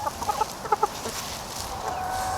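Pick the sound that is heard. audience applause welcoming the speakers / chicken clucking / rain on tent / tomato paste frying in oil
chicken clucking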